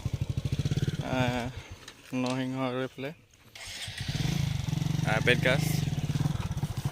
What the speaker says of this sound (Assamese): এইফালে ওলালে বাইক লৈ ঘৰলৈ বুলি যাবলৈ এতিয়া ৰাওনা হৈছে।